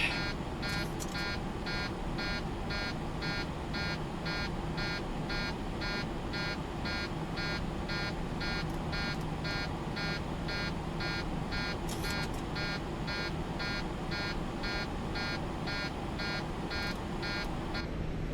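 Cockpit alarm in the LevelUp 737 flight simulator game, a continuous rapid pulsing electronic buzz repeating evenly throughout, steady and unbroken.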